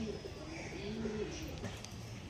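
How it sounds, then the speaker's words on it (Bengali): Soft, low pigeon cooing, fairly faint, with a little background noise around it. "নেক্সট পায়রা দেখি তোমাদের জন্য"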